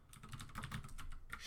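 Rapid typing on a computer keyboard, a steady run of close, crisp key clicks at moderate volume with no speech over it.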